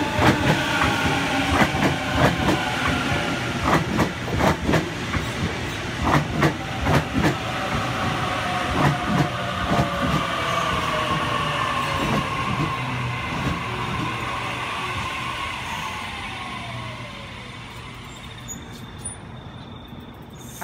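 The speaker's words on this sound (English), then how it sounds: "A76 now departing platform number 2, Hornsby Service." A Sydney passenger train pulls out of the platform at Cheltenham station at night, a steady rolling rumble with rhythmic clickety-clack wheel beats and a falling whine, close at first and then fading slowly as it leaves.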